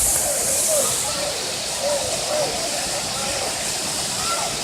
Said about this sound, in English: They went under the waterfall now with Lily.